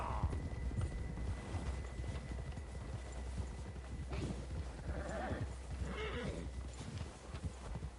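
Horse hooves clop in a steady gallop through a video game, with whinnies and neighs rising near the middle and end over a constant low rumble.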